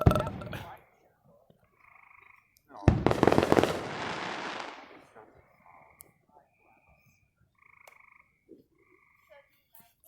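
Fireworks go off outdoors: a sharp bang near the start and a long crackling burst around the third second, followed by scattered faint pops, with people talking and bleeping electronic tones in the quieter stretches.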